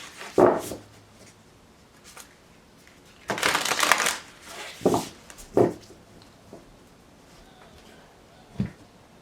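Tarot cards riffled and shuffled in a few short bursts, with one longer crisp flurry in the middle and quiet pauses between, close to the microphone.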